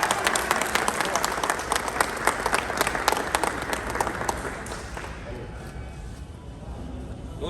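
An audience claps loudly for a leader, Mr Shiv Kumar, called to the front at a business event, crisp individual claps in a thick burst that thins out after about five seconds, with a voice speaking over the tail.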